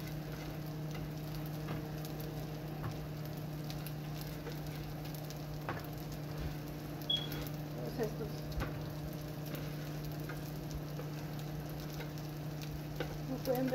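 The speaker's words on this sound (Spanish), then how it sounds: "Aquí nomás los vamos a dorar un poquito más, que se tuesten un poquito." Buns toast in a frying pan over a low flame, giving a steady close sizzle and crackle throughout with occasional soft taps and scrapes; no speech.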